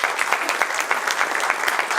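Audience applause after a speech on peace, a steady mass of clapping from many hands filling the room, moderately loud and continuous with small uneven peaks and no voices over it.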